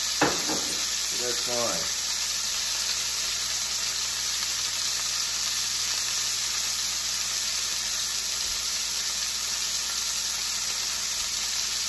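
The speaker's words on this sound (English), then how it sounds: "I'm getting a little sputtering from the oil" A steak pan-fries in hot oil with a constant close hiss of sizzling and sputtering. A brief voice and some stirring clatter come at the start, then the steady frying fills the rest.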